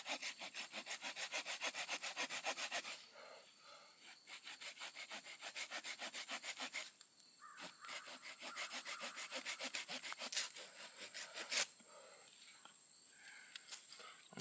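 Wooden stake being cut to a point for a ground blind, with steady rhythmic back-and-forth sawing strokes close by, a brief pause midway, then more scraping cuts and a few sharp knocks near the end.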